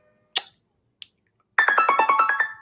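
A phone ringtone sounds for an incoming call, a rapid run of bright, warbling electronic tones at close range, preceded by a couple of brief clicks and taps.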